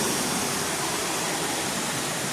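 A waterfall beside Bordners cabin in Swatara State Park, Pennsylvania, rushes in a steady, dense broadband roar, close and unbroken, with no voices.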